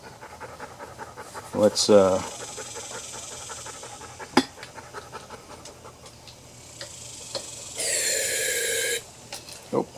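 A dog pants steadily and close by in a workshop where a Honda tiller is being repaired. A few brief noises and a short spoken word break in over the rhythmic breathing.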